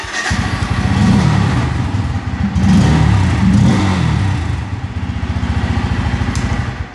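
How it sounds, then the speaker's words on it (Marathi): A Bajaj Pulsar N160 motorcycle engine starts and revs indoors in a showroom. The note is loud and steady, with several throttle blips rising and falling over a continuous idle and no talk. "सध्या बाईक शोरूमच्या आतमध्ये असल्यामुळे तुम्हाला फक्त आवाज दाखवून दिला बाईकचा कसा आहे"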